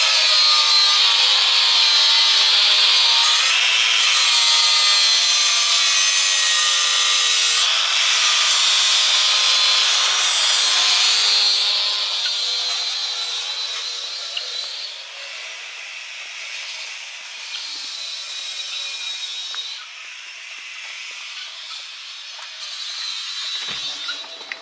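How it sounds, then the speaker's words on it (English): Old paint being ground off a 14-bolt Chevy axle with a power tool, a loud continuous high-pitched grinding that eases to a lighter, steadier level partway through, with no talking. "is grinding off the old paint,"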